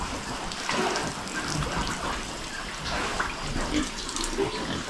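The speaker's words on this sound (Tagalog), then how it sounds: "Umina yung tubig natin basta may gumamit doon sa kabilang gripo." Water running from a tap at a rural hut on a cold morning, a steady close gushing flow with splashing that continues throughout.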